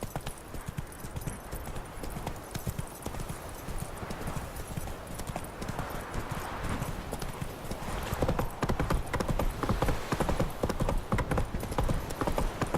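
Horse hooves clip-clop at a steady gallop in The Witcher 3 video game, a continuous rhythmic pounding that grows louder toward the end, with a brief whinny-like cue and no clear speech.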